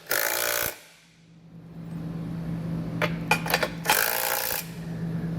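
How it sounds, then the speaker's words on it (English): Nuts being tightened on hitch receiver brackets on a 2021 Tesla Model, with a loud burst of noise, a steady hum, then a quick run of close ratcheting clicks followed by another burst. "We're going to hold them there and then tighten down these two nuts."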